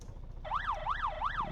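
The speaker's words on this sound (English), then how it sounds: "No, I remember that siren though." Car siren of a 1966 Gavril Bluebuck in a video game, a clear wailing siren rising and falling in three quick even cycles after a brief quiet moment, sounding alone.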